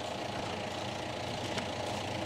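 A farm tractor engine idles with a steady, dense low rumble and faint knocking, heard continuously and alone without talk.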